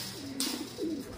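Racing pigeons, just back from a race from Rosales, Pangasinan, coo close by. Two soft, throaty coo phrases roll out in quick succession over a faint background hiss.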